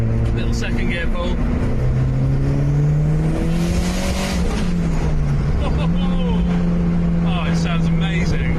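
A Volvo S40 T4 fitted with a Holset HX40 truck turbo, not yet mapped, pulls hard in second gear, its engine drone rising steadily and loud up close, with a gear change partway through and a voice talking over it.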